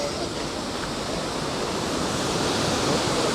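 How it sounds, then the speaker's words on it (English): A waterfall in the village of Betws-y-Coed, North Wales, roars as a steady, dense rush of falling water, loud and continuous throughout with no voices over it. "Like a waterfall over there."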